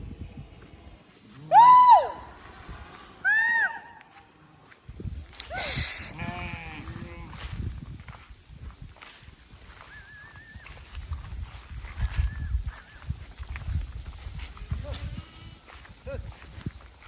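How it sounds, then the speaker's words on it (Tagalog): A baby goat on a ranch bleats several times, loud and close, in short wavering cries, followed by softer rustling, distant animal calls and a person speaking briefly. "Hello, baby kambing. Baby goat."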